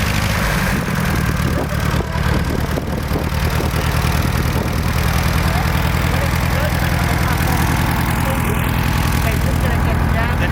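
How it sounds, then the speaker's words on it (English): A 1940s tractor engine cutting a trail chugs steadily and loudly nearby, a low rhythmic idle running continuously throughout without letting up. "my friend is making us a little trail with his tractor"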